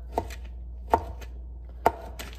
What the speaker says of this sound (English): So just cutting them however I feel I want to.